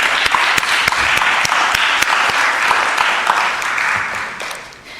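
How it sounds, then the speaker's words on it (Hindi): A crowd at a gathering applauds, a dense, loud, sustained wash of many clapping hands with a few sharper individual claps, tapering slightly at the end. "ज़ोरदार तालियाँ होनी चाहिए"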